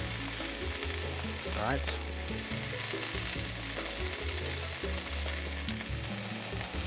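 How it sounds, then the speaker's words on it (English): Fish fillets sear in a hot pan, a steady loud crackling sizzle with rhythmic stirring or scraping clicks over it, and a voice speaks briefly. "I'm going to sear it again for about 5 minutes on the other side"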